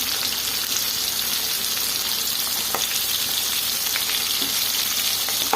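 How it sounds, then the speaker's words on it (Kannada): Small onions fry in plenty of hot oil for an onion sambar, giving a steady, close, dense sizzle that holds level throughout with a few faint stirring scrapes and no voices. "ಈ ಈರುಳ್ಳಿನ ನಾವು ಸಣ್ಣ ಈರುಳ್ಳಿನ ಫ್ರೈ ಮಾಡ್ಕೊಬೇಕು"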